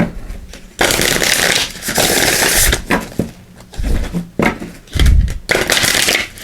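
Tarot cards are shuffled in bursts, riffling and fluttering close by with short pauses and soft taps between each pass.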